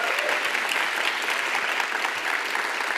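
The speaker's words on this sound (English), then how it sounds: "I think we can give a round of applause for being here together" An audience at a live climate justice dialogue event claps in a steady, dense round of applause that holds evenly throughout.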